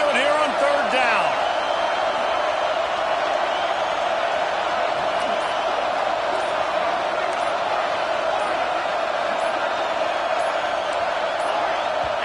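A loud, steady roar from a college football stadium crowd at Saban Field on third down fills the whole stretch without letup, with no clear break in the noise.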